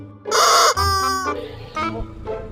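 A hen clucks and squawks in a few loud, close bursts, harmonic and shrill, with short pauses between calls.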